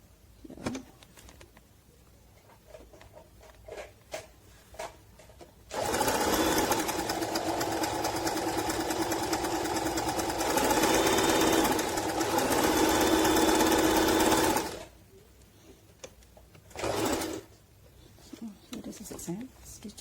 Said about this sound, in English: So now let's go and do the zigzag stitches.